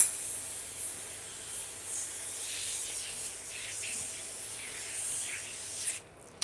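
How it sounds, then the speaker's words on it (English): A soft, steady hiss of spray from an aerosol can of cleaner onto a barbecue grill runs for several seconds, fairly faint, ending with a brief clatter. "I want you to see what happens when we spray this"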